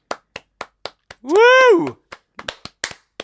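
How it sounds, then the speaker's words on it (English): Hands clapping in a talk-show setting, a string of sharp, evenly spaced claps near the microphone, briefly interrupted by a loud cheering whoop before the clapping resumes. "that itself deserves applause"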